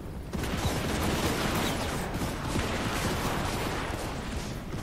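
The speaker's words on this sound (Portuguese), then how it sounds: "Dá um tiro aí, galera, por favor." Musket volleys from a unit of handgunners in Total War: Warhammer 2, an Arabian army in battle: a dense, sustained crackle of many overlapping shots that swells and rolls on for several seconds, loud and close.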